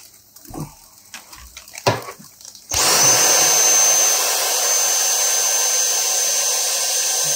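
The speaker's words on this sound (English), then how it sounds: "I'm going to get the vacuum cleaner and just hold it here to grab any mould." A vacuum cleaner is held over a mouldy quarter-inch open reel tape during cleaning. After a few quiet handling knocks it switches on into a loud, steady motor whine and airy hiss that continues to the end.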